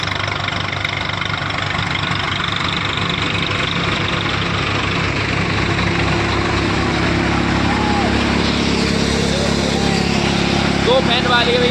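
Swaraj 855 tractor engine running steadily and loudly, driving a Rajasthani cutter machine, a continuous heavy mechanical drone throughout with voices talking over it.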